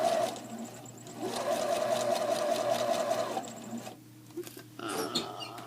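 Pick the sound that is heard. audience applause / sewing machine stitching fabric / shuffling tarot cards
sewing machine stitching fabric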